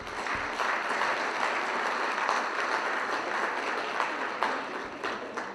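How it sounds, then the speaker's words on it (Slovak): A ballroom audience at a waste-management industry gala ball claps steadily, a dense, sustained patter of many hands filling the room for several seconds. "Poprosím potlesk."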